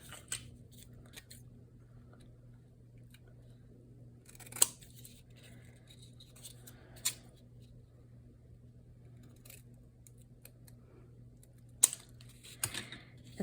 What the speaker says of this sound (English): I'm just going to trim that now that it's attached